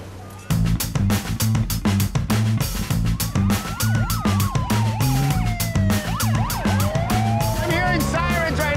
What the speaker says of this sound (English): I'm hearing sirens right now. What are these sirens about?